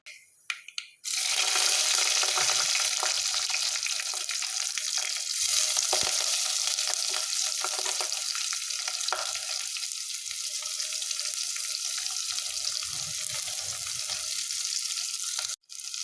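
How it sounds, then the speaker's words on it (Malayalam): Sliced onion and two green chillies hitting hot oil with popped mustard seeds in a pan for a Kerala thoran, a loud steady sizzle lasting throughout, with scraping stirs and no talking. "ഇത് നന്നായിട്ടൊന്ന് ഇളക്കി യോജിപ്പിക്കാം."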